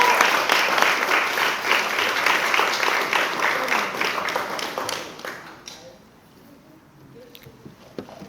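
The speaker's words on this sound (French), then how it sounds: "Let us clap for them." Wedding guests applaud a newly married couple after a church ceremony, steady loud clapping from a crowd that fades out after about five seconds, leaving a quiet room with a faint tap or two.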